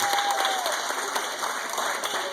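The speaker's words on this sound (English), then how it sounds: "allow this applause to take you back to sleep now" Audience at a stage hypnosis show applauds, a dense, even wash of many hands clapping throughout.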